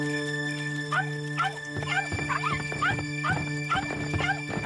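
A dog whimpering and whining indoors in an animated children's story, with a series of short, high, close cries repeating over a steady background tone and music.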